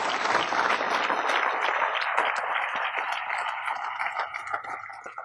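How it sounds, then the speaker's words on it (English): An audience at an event for a Batavia yogurt plant breaks into a big round of applause, dense and loud at first and then gradually thinning and fading toward the end. "First, to Indra Nooyi, let's give her a big round of applause for her leadership."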